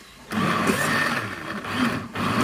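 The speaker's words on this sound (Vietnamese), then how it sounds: "Bây giờ mình xay thì nó hơi ồn ha" A blender grinds food at high speed, a steady loud whirring drone starting abruptly after a brief quiet moment and running continuously to the end, close to the microphone.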